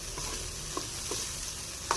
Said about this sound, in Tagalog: gigisahin natin